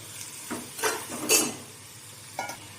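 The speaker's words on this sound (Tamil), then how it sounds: "ஒரு நாலு அஞ்சு நிமிஷம் தக்காளி நல்லா வதங்கட்டும்" Tomatoes and ginger sautéing in a pan for tomato coriander chutney, a low soft sizzle under a few distinct spatula scrapes and stirring knocks spaced across a few seconds.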